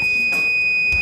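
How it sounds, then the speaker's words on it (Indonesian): A motorcycle anti-theft alarm goes off the moment the ignition is switched on, a steady piercing electronic tone held throughout with brief bursts of extra noise, loud and close. "Begitu kontak kita on oleh pengguna motor, maka alarm langsung bunyi seperti ini."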